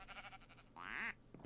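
A sheep in the Minecraft video game bleats once, a short wavering nasal cry rising and falling at moderate volume, preceded by brief soft game sounds and quiet otherwise.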